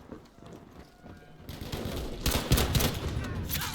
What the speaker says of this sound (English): I hear gunfire above me.